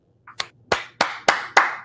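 Applause at a live music show, a few sharp separate claps in an irregular rhythm, fairly close and distinct, with no voices over them.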